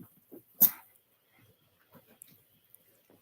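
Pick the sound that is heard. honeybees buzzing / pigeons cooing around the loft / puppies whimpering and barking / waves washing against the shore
puppies whimpering and barking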